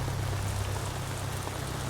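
Steady rain falls on a mountain cliff face, a dense, even hiss of drops with a low rumble beneath, close and unbroken, no voices.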